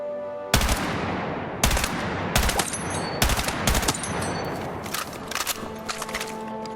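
M16A4 rifle firing in the video game Battlefield 6 with a heavy extended barrel fitted, sharp loud shots in short bursts and singles spaced across the stretch.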